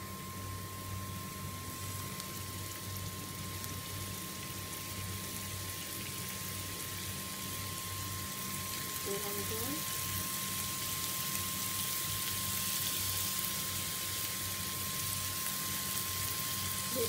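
Garlic and onion sizzling in hot cooking oil in a pan while making vegetarian sambal, a steady close hiss of frying with a faint constant hum, no talking.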